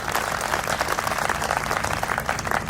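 Dense, continuous applause from a crowd at a Hindi comic poetry gathering, many hands clapping together at a steady, lively level.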